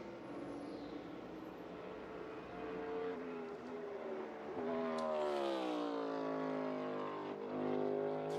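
A NASCAR race car lapping the track at speed during practice for the 2023 Enjoy Illinois 300, a steady engine drone rising in pitch as the car comes closer and roars past.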